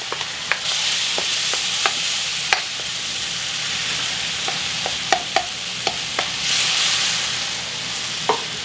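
Ground meat sizzles steadily in a hot pan for Dan Dan noodles with kimchi, a loud continuous fry broken by sharp scrapes and taps of a stirring utensil, with no one talking.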